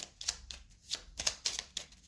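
Tarot cards shuffled by hand in a series of crisp riffling bursts, about seven quick flurries with brief pauses between, close and fairly quiet with no talking.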